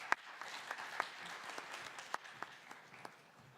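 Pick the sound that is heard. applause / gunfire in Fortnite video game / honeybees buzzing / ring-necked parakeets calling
applause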